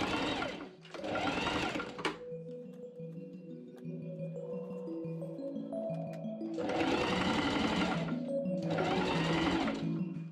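A sewing machine stitching bodice darts on a linen wrap dress, running in two loud bursts of rapid, whirring stitches with a quiet gap between them over soft background music.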